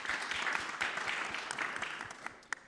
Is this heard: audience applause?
yes